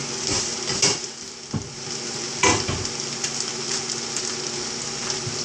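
Fried rice and vegetables cooking in a pan being covered to simmer, a constant close sizzle with a few scraping stirs and lid or pan knocks, no voices.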